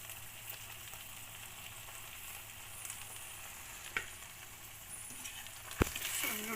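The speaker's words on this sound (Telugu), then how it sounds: "ఇందులోకి మనం బాయిల్ చేసుకున్న నూడిల్స్ని వేసుకుందాం." Boiled noodles frying in a pan for restaurant-style street food egg noodles, a steady crackling sizzle with a few sharp stirring scrapes and knocks, quiet but close.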